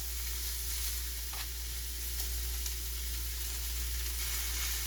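Steak laid flat on top of vegetables in a hot pan sizzles steadily and close, a continuous bright frying hiss with a faint low hum beneath and no talking.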